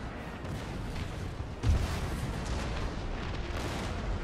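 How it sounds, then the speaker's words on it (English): Cannon fire in the Napoleonic-era strategy game Napoleon Total War booms out as one dull thud amid a constant rumbling battle din, fairly faint and distant. "he's gonna get hit by cannonballs in a second"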